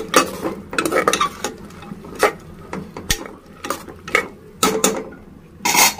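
Chana dal and cluster bean curry being stirred in a pot, a spoon scraping and clinking against the metal in irregular strokes, fairly close and clear, with no talking.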